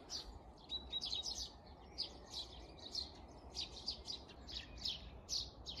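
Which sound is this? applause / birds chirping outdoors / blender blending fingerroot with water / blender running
birds chirping outdoors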